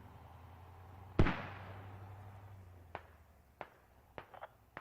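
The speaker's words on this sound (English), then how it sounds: "Mortar's going out." Mortar firing in the Squad video game: one loud, sharp launch thump with a long rumbling tail, followed by several fainter, scattered thuds and clicks in the distance.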